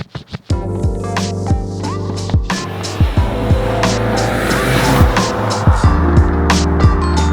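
A 1999 Nissan Skyline GT-R V-spec accelerates hard, its engine note climbing through the gears with sharp shift breaks and a pop or two. The engine is loud and close throughout, with no one speaking.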